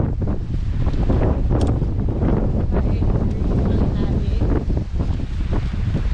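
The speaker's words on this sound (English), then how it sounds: "It's warm, but the wind's blowing real heavy." Strong wind of about 20 miles an hour blows across the beach at Fort Fisher, North Carolina, a loud constant roar and rumble buffeting the microphone, with surf faintly beneath.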